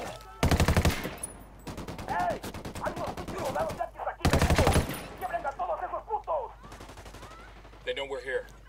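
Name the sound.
machine gun fire in video game Ghost Recon Wildlands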